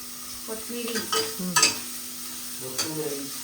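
Coriander frying in oil while being stirred for a village-style thonthana dish, a steady close sizzle with scraping stirs clustered in the middle, no talking.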